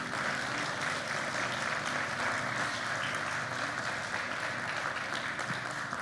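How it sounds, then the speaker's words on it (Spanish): Congregation applause during a church sermon, a steady, even wash of many hands clapping, moderately distant and sustained without breaks or speech. "Denle un aplauso a Dios por eso."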